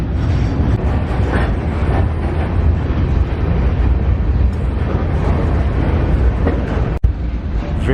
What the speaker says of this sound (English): there is just a giant train down the middle of the street.